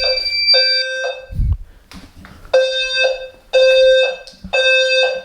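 A fire alarm sounder on a new panel goes off during a full system test, giving loud, repeated electronic horn blasts in a steady on-off temporal pattern. A brief low thump is heard between blasts.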